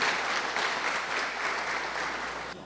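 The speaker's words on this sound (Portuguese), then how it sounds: "dê uma bela salva de palmas para o Senhor Jesus." A church congregation claps for Jesus at a Friday worship service, a dense, even burst of applause that fills the room, steady and loud before tapering off at the end.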